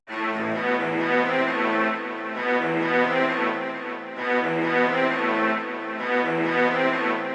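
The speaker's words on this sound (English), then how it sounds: "we are using Purity, the strings arco low preset" Low arco strings from the Purity plugin swell through a slow counter melody, long bowed notes rising and easing in broad phrases, alone and fairly full throughout.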